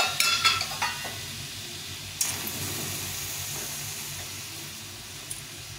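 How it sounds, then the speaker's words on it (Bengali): Jaggery melting with a splash of water in a hot pan gives a soft, steady sizzle and hiss, with a few stirring scrapes and clinks near the start and a brief sharper crackle partway through. "এখন এই গুড়টা দিয়ে দেবো। গুড়টা দিয়ে একটু জল দিয়ে জ্বালিয়ে দেবো।"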